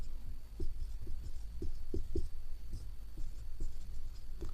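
Chalk or marker taps and strokes on a board during a lecture form an uneven series of soft, close knocks and scrapes, with about a dozen distinct hits over a faint room hum.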